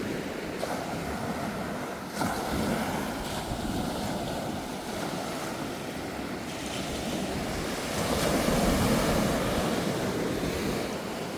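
Waves break and wash continuously along Mullivaikkal beach, a dense roaring surf with gusty wind noise on the microphone, a few louder surges, and a heavier swell near the end; no one speaks.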